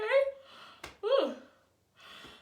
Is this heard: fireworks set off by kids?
no